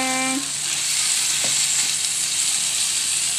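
Eggplant, longganisa, hotdog and egg fry together in a pan, a loud, close, steady sizzle with a brief tonal chime at the start and a single soft knock partway through, no voices.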